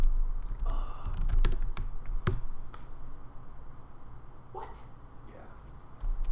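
Rapid bursts of clicking keystrokes on a computer keyboard, close and irregular, with pauses between runs and someone speaking over parts of it.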